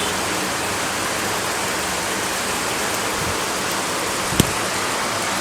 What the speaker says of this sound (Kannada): ತುಂಬ ಜೋರು ಗಾಳಿ ಮಳೆ ಈ ಸೈಡಿಂದ ಬರ್ತೇನೆ, ನಾರ್ತ್ ಸೈಡಿಂದ.